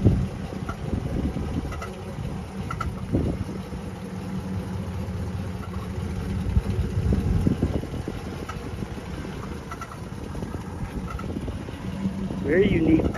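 A 1937 Cadillac Series 60 convertible cruises down the road with a steady, low engine rumble and road and wind noise throughout, and someone talks over it.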